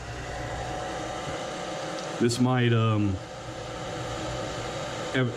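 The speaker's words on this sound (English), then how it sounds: "that blow dryer puts out some heat" A blow dryer blasts hot air onto an authenticity sticker's adhesive, a steady rushing whoosh running throughout while someone briefly speaks over it.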